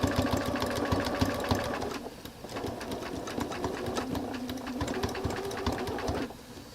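A sewing machine stitching a narrow zigzag, a fast rhythmic chatter of the needle that runs steadily, eases briefly around the two-second mark, then resumes, close and clear with no talking.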